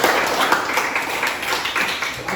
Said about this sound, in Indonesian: Tepuk tangan untuk diri kalian.